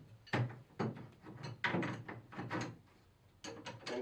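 Anchor bolts hung on a Boltrail concrete forming rail, heard as a series of close metallic clanks and knocks at irregular intervals, separated by quieter handling noise.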